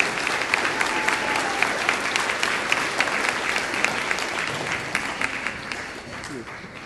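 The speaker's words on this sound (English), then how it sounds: "Let's give a big round of applause to Mr." Audience applause at a school Veterans Day ceremony: a sustained burst of many hands clapping in a large room, dense and steady, slowly thinning toward the end.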